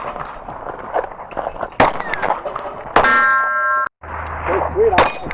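A Sig X-Compact pistol fires at a steel target, giving a sharp crack and a bright metallic ring that lingers, heard several times close and loud with a brief cutout in the middle.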